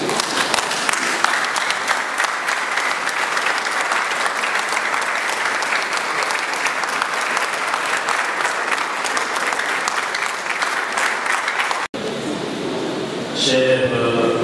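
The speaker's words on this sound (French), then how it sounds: "je voudrais demander à tout le monde de se mettre debout et encore une fois applaudir frénétiquement celui qui nous a quittés." A standing audience at a memorial gathering applauds frenetically for about twelve seconds of dense, sustained clapping, then it cuts abruptly to a quieter room with a voice rising near the end.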